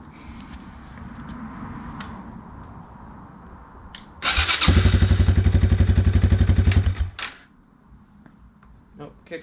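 A Yamaha TW200 motorcycle fires up after an oil change and runs with a loud, rapid, chugging idle for a few seconds before cutting out. Quieter clatter and handling noises come before and after.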